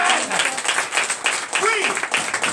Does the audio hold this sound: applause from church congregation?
yes